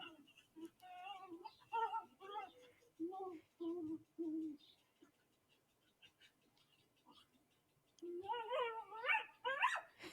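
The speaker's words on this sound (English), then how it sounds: "play between a small dog and a large dog" A small dog and a black Labrador at play, giving short barks, growls and whimpering yips in bursts, with a quiet stretch in the middle before a livelier run of high yelps near the end, fairly close.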